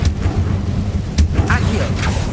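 An Incendio fire spell is cast in Hogwarts Legacy, giving several loud, sharp bursts and whooshing booms in quick succession, with a voice speaking among them.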